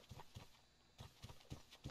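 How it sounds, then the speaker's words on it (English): Footsteps in a horror video game, a quiet series of soft, evenly paced thuds in pairs with a brief pause partway through, heard alone without talk. "I thought I heard footsteps."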